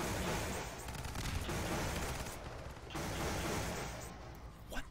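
A mounted turret gun fires in Half-Life 2 in rapid sustained bursts of loud crackling shots, with brief pauses between volleys and no talking.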